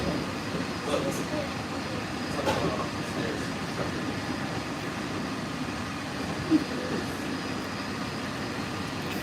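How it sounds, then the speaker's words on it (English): A Walt Disney World Magic Kingdom monorail ride, a steady low rumbling hum with faint rail clatter inside the moving car, with people talking quietly under it. "the monorail is always fun to ride"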